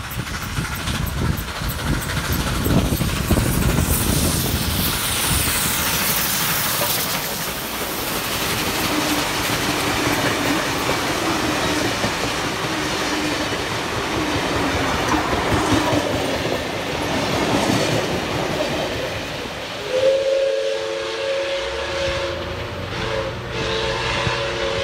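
A steam locomotive pulling a train rumbles past close by, steady rolling noise with rhythmic wheel clatter, rising and fading, followed by a loud two-tone horn blast near the end, in New South Wales.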